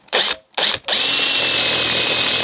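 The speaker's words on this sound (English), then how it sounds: "we just need to mark the hole, take the bracket off and drill." A power drill bores a hole for an outdoor weatherproof speaker bracket, two short loud bursts followed by a long steady close whine as it runs continuously.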